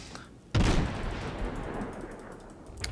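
A single heavy naval gun blast from the US cruiser Chester in World of Warships erupts sharply, then rumbles and decays over a couple of seconds, with a faint crack near the end.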